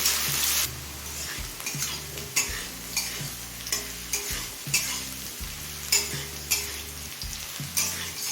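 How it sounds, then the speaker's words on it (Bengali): Potato and carrot pieces frying over a medium gas flame, a continuous sizzle broken by regular scraping stirs of a spatula against the pan, close and without speech. "এবার এই আলু আর গাজরটা কিছুক্ষণ ভেজে নেবো আর এই সময় গ্যাসের ফ্লেমটা মিডিয়ামে থাকবে"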